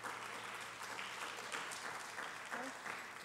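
Audience applause at the Miss East Georgia State College pageant for the event volunteers, a steady, fairly faint patter of many hands clapping throughout with some voices mixed in.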